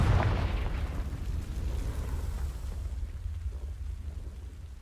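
A Confringo fire spell in a Harry Potter video game bursts against dry vines with a loud, booming blast at the start, then fades into a long low rumble and crackle.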